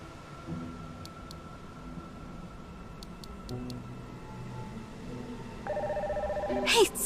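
A phone rings for a call in the video game NieR Re[in]carnation, its electronic ringtone rising near the end over a quiet ambient background with soft clicks and tones.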